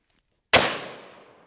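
A single sharp gunshot from a .500 Magnum revolver fired outdoors at a basketball target, loud and close, with a long ringing decay trailing off for about a second afterward.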